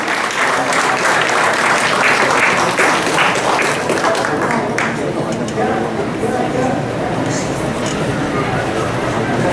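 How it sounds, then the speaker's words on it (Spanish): Strong, continuous applause from a crowd at a community awards ceremony as a medal is presented, loud and steady for the whole stretch, with a voice heard faintly beneath it. "Un fuerte aplauso."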